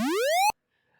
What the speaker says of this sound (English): So let's say we maybe want a square waveform that sounds like this.